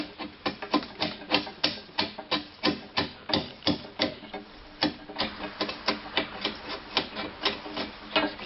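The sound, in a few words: long chisel cutting across end grain of wooden post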